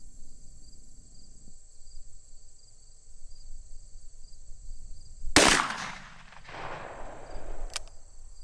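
A single loud, sharp .44 Magnum gunshot from a Freedom Munitions 240gr XTP round cracks out of a quiet outdoor backdrop of chirping crickets, trailing off in a short echoing decay, with a faint click a couple of seconds later.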